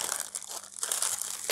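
A plastic packet of daffodil bulbs crinkles and rustles as it is torn open, with close, continuous crackling that grows louder near the end.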